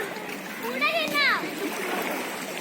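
Water splashes as people climb into a swimming pool, a brief burst of sloshing near the middle while children's voices and a shout carry over the steady splashy background.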